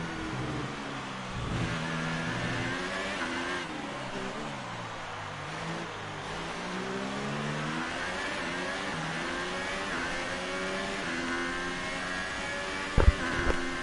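An F1 race car engine in F1 2018 whines and rises and falls steadily through the gears, a continuous mid-pitched drone with overlapping car tones, and no voices.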